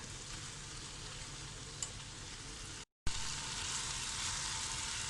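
Brinjal stir-fry for a Kerala mezhukkupuratti sizzles steadily in a pan, a broad continuous frying hiss with a brief stir noise and a short cut of silence midway, no voices.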